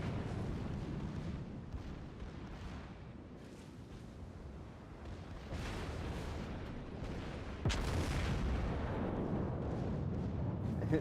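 Naval ship cannons fire during a warship battle video game, a deep booming rumble rolling on continuously with one sharp, heavy blast near the end.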